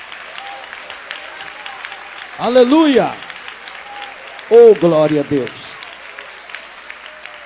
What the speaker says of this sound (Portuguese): Pode dar aplausos para Jesus.